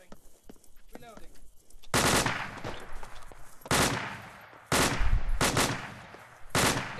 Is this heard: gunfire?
yes